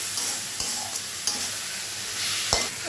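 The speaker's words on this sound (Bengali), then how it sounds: "ভালো করে মশলা কষিয়ে নিই" Onion and spice paste sizzling and frying in oil in a pan for a Bengali snakehead fish curry, with a steady broadband hiss and a few sharp spatula scrapes and taps on the pan.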